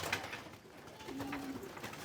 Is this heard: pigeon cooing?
yes